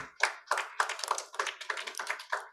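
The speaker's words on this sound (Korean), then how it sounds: "다시 한번 박수 쳐드리시죠" Forum audience at a local education debate claps in a brisk burst of distinct, close hand claps lasting a couple of seconds, with no talking over it.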